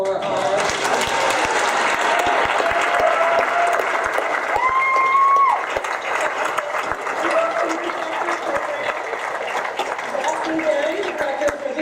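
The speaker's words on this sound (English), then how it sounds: "let's have a warm round of applause for our..." Audience applause at a fantasy convention's opening ceremony, a dense, steady wash of clapping from a large crowd that fills the room, with a brief tonal whistle or squeak partway through.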